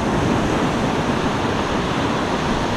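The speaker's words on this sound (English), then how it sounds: "so quite a few waves coming in there." Ocean waves break and wash continuously on a beach where fishing from shore with live bait goes on, giving a loud, steady roar of surf mixed with wind noise on the microphone, with no talk.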